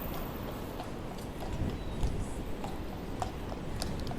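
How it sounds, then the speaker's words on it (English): Horse hooves clip-clop faintly on the Blackpool seafront, a soft irregular clatter of steps under steady wind and street noise. "horse moving up"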